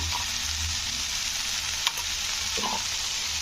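A chilli, coconut and garlic paste fries on low heat in a pan, giving a constant hissing sizzle broken by one sharp spoon clink and a few soft scrapes.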